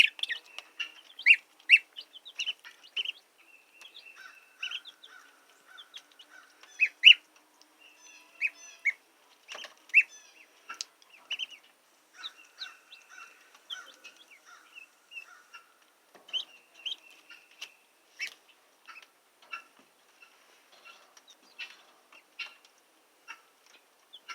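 Baby chicks peep in a brooder box, a faint, high chorus of thin, intermittent chirps that comes and goes in uneven bursts over near silence.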